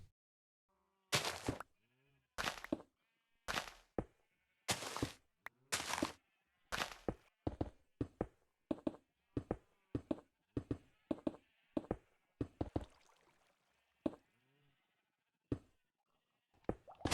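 Sheep in a video game bleat again and again in short, loud calls, at first spaced apart and then coming faster and overlapping, each with a thudding onset, with nothing else heard between them.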